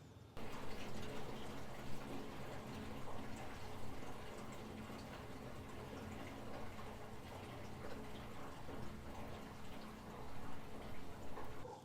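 Water overflows and drips steadily from a 1970 Chevy C20 pickup truck after being filled, a continuous close splashing hiss with no pauses and no voices.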